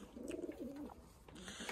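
Pigeons in a flyers loft give low, throaty coos in a few rolling phrases, close and fairly quiet, with a faint rustle behind.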